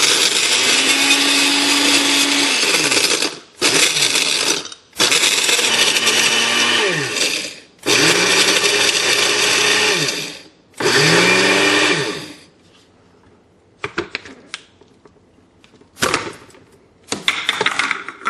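A Cuisinart machine crushing ice in loud, grinding bursts of a few seconds each, separated by short pauses, then a quieter stretch of scattered rattles and clinks.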